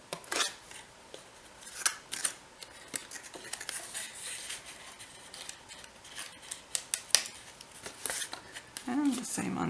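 Scissors snip through folded paper while a mini album is being made, with repeated crisp cuts at an uneven pace close by, and someone talks quietly over them.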